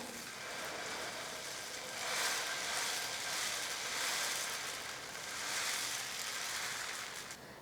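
Thick dosa batter sizzles on a hot griddle for a dosa pizza, a soft, steady hiss that swells and fades in gentle waves, quiet and close with no voices.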